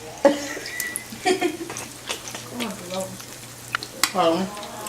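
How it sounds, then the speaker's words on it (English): Crab cakes sizzle and crackle in a hot pan while people talk over it, with clinks and scraping of utensils. "This has been frying for about 3 minutes."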